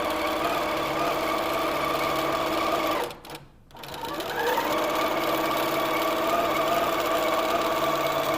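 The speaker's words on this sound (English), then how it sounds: "I'm gonna sew using a 1/4-inch seam using my little Rebel" A small Rebel sewing machine stitches a quarter-inch seam through fabric with fusible interfacing, a loud, close, continuous whirring hum that stops briefly midway and then resumes.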